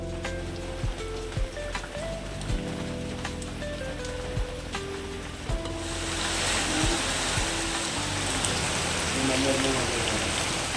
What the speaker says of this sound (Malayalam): ഇപ്പോൾ ഇവിടെ നല്ല മഴ പെയ്യുന്നുണ്ട്